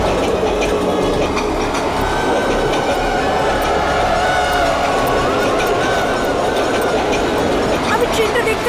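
A train rumbles past in a continuous loud clatter of rolling wheels as part of a drama soundtrack, with voices talking over it throughout.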